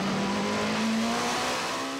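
Alpine prototype race car at the Le Mans 24 Hours, its engine droning loud and steady with a slowly rising pitch as it pushes on, no voices.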